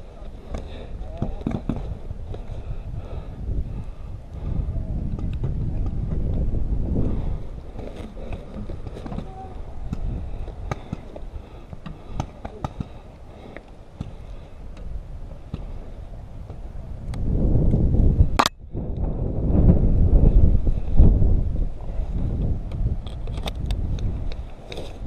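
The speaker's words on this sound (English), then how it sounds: "to make things more difficult, there's a strong wind" Strong wind buffeting the microphone outdoors at a paintball musket game, loud rumbling gusts that rise and fall throughout, with people talking over it and a sharp crack near the end.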